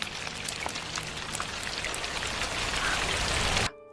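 Blood rain pours down in the Evil Dead horror film, a dense, steady hiss of drops striking a surface that grows slightly louder before cutting off abruptly near the end.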